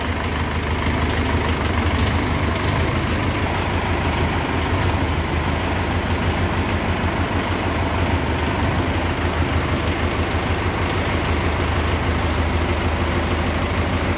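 A Mahindra 585 Yuvo Tech Plus 4x4 tractor's diesel engine idles steadily and loudly at close range, a continuous low rumble with no talk over it.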